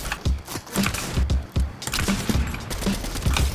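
Sniper rifle fire in the Fortnite video game, loud game shots and mechanical clatter repeating at a steady rhythm across the moment, with no talk over it.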